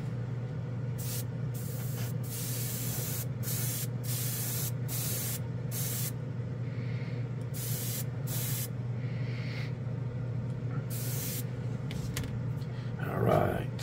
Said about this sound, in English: We'll spray like a little piece of this car